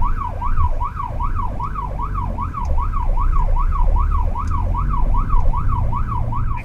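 Red Cross ambulance siren wailing in a fast, regular up-and-down cycle, loud and continuous over low vehicle rumble, with no talk.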